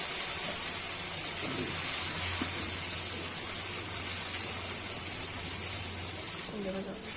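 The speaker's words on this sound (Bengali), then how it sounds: "এবার দিয়ে দেবো জল" Water poured into a spice paste cooking in a pan for a morola fish oil-chilli curry, a steady broadband rush and gush running nearly unbroken for several seconds, close and fairly loud.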